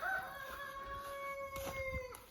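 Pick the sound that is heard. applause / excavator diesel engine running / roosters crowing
roosters crowing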